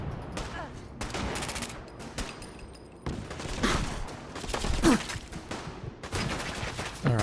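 Drum-magazine gun firing in Fallout 4's Nuka World, loud bursts of rapid automatic fire broken by short pauses, sharp cracks layered over echoing battle noise.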